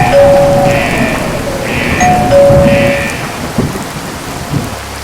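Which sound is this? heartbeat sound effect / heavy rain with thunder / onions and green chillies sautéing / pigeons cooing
heavy rain with thunder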